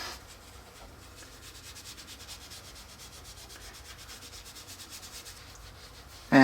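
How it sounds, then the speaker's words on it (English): A hammer head is rubbed with Autosol metal polish by hand, giving a faint, steady back-and-forth rubbing that runs continuously and ends in a brief louder knock. "use some of that Autosol polish that you guys know I love so much, and we're gonna polish the head of this hammer"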